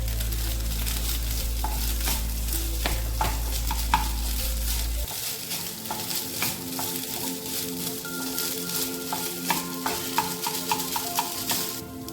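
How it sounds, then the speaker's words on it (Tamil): Cooked rice is stirred into sautéed mint in a pan for mint rice. A low hum cuts off partway through, leaving quiet sizzling and repeated clinks and scrapes of a spoon against the pan. "1/2 கப்பு சாதம் எடுத்து வச்சுருக்கேன், அதை நம்ம இதில் மிக்ஸ் பண்ணிக்கலாம்"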